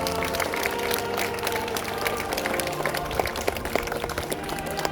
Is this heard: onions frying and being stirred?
no